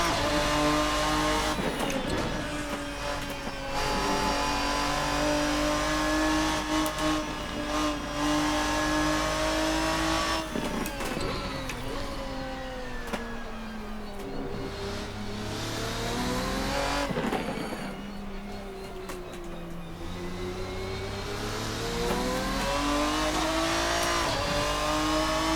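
A Race Sim Studio Ferruccio 57 race car in the Assetto Corsa racing sim revs hard and accelerates, its loud engine note climbing and dropping through repeated gear changes for the whole stretch, with brief tire squeal.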